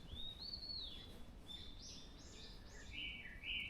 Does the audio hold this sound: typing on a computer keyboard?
no